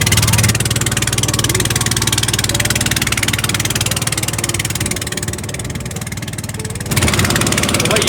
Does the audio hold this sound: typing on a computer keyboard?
no